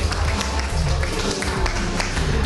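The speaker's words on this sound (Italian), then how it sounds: "facciamo un applauso ai nostri 3 finalisti ufficiali" Applause for three official finalists at a Banana Quiz final: dense, steady clapping throughout, close and loud, with no speech on top.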